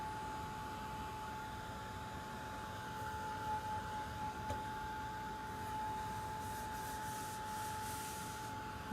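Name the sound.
sanding a painted wooden sign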